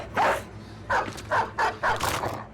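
War dogs in the Battle Brothers game bark in four or five short, separate bursts over a low background hum, fairly close, with no one speaking.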